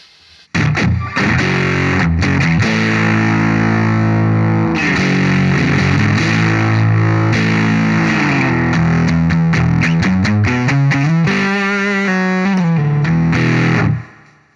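Electric guitar played through a TEFI Vintage Labs Gegé hand-built germanium fuzz pedal, loud, saturated and continuous, with sustained chords and a run of shifting notes near the end before cutting off.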